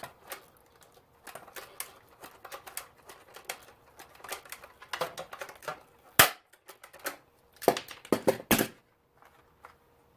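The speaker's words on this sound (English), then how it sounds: "rivet this guy together now" Sharp clicks and snaps in irregular bursts as plastic parts of a costume gauntlet are riveted together, with several loud cracks of a hand tool pressing parts together, sounding close and separated by quiet gaps.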